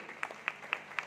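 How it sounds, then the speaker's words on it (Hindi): Sparse hand claps at a business meeting, four distinct slaps evenly spaced, fairly faint and close, with no continuous crowd roar. "माननीय राजेश कुमार साक्की जी, हम चाहेंगे इन दोनों महान हस्तियों के सम्मान में एक बार तहे दिल से जोरदार ताली हो जाए"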